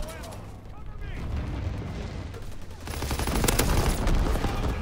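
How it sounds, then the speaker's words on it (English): Bombing run explosions and gunfire in Call of Duty WW2, a dense rumbling barrage that swells louder partway through, with a player's voice faintly mixed in. "that bombing run is just killing me"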